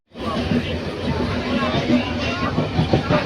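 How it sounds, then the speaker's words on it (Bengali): A packed passenger train on the night of 31 December: a dense, continuous babble of many voices and nearby chatter rides over the steady rumble of the moving carriage, loud and close throughout. "আর ট্রেনের ভিতরে ভালো ভিড় আজকে"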